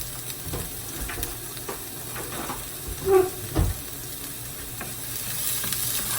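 Onions sauté in a pan for gallo pinto, giving a steady close sizzle with occasional stirring scrapes and a couple of louder clatters midway.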